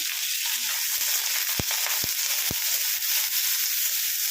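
Chopped green chillies fry in a pan with a continuous close sizzle, broken by three sharp utensil taps against the pan in quick succession midway.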